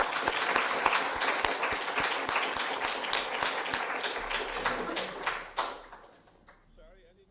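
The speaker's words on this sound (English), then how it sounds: "an applause to you." A small audience at a live translational medicine lecture on neuroglia claps after a presentation, distinct close handclaps that thin out and fade toward the end, with some voices underneath.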